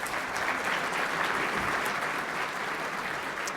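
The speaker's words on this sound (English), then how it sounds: "A round of applause for our sponsors, please." Sustained, dense applause from a gala audience honoring sponsors of the US-China Business Council, an even roar of many hands clapping throughout with no pause.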